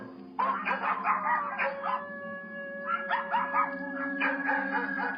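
Several market dogs chasing a car bark in choppy bursts over a drawn-out howl, the yelping rising and falling at moderate distance.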